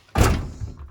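A door thunks shut with a single dull, close thud that fades quickly, heard alone.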